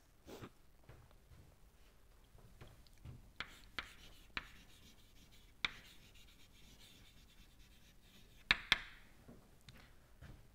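Writing on a board during a thermodynamics lecture, with soft scratchy strokes punctuated by several sharp taps and clicks as the marker or chalk meets the surface, fairly faint and with no talking.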